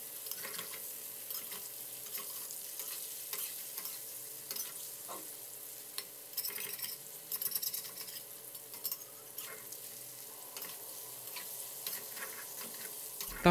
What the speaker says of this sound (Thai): ให้เราทอดเต้าหู้ของเราให้ผิวด้านนอกสุกเหลืองเลยนะครับ